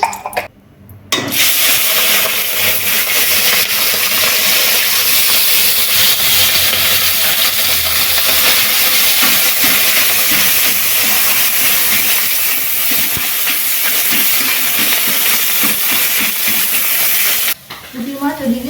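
Puti fish coated in salt and turmeric fry in hot oil in a kadai, a loud, continuous close sizzle that starts after a second and hisses steadily for about sixteen seconds before a brief break.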